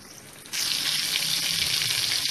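Pomfret fish hits a pan over medium gas and erupts into a sudden, steady bright sizzle that carries on evenly, close and fairly loud, with no voices.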